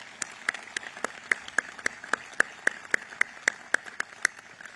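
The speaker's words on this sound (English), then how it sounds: "A round of applause for these two awesome young men." A lone person or a small handful clapping at a sparse, steady pace, about twenty sharp claps over a few seconds, fairly close, at a gathering honouring the Holsey family's tradition of service.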